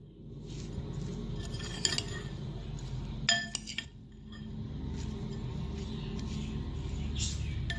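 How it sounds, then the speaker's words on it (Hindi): Spices and chicken being mixed for a mayo sandwich filling, light clinks and scrapes of a spoon against a bowl in a few brief bursts over a quiet background. "ये सब चीज़ें ऐड करने के बाद इसे अच्छे से मैं मिक्स कर लूँगी।"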